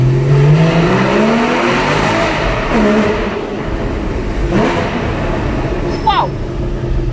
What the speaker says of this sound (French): On va faire une petite accélération.